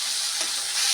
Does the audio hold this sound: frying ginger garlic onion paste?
yes